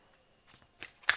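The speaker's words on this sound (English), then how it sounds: "one more just to give it a good enough shuffle" Quick riffle of cards being shuffled, a few short papery bursts building to a sharper flutter at the end, close and fairly quiet.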